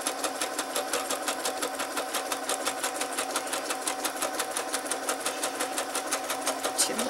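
A sewing machine stitches a paper envelope at medium speed, giving a fast, even mechanical chatter that runs steadily and close up with no talk.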